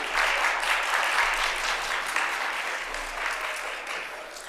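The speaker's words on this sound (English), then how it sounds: "a round of applause" Audience applause at a Sunday church gathering, a steady dense patter of many hands clapping at moderate volume throughout, easing slightly toward the end.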